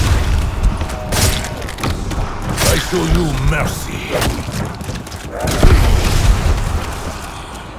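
Booming explosions in the tower defense game Voyage of Despair on hardcore, repeated heavy thumps and bursts amid busy battle effects, with a character voice speaking over them.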